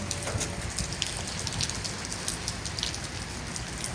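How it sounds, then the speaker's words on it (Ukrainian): Heavy rain pours steadily, a dense hiss of drops striking surfaces nearby, with scattered louder splashes and no voices. "Там дуже жорсткий дощ"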